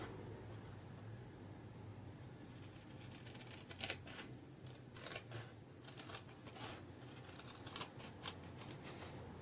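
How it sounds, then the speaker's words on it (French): Scissors snipping through paper card while crafting a carousel box, a series of quiet, crisp cuts in short irregular bursts, close and faint. "Vous pouvez le faire à la règle au cutter ou avec une paire de ciseaux."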